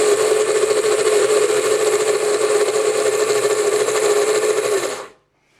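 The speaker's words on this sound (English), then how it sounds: "turn it on, and keep repeating that until it goes into like a smooth butter" A food processor blends nuts into smooth nut butter for vegan, refined sugar-free macaroons, giving a loud, steady motor whir with grinding texture that runs continuously and then cuts off abruptly near the end, with no talking.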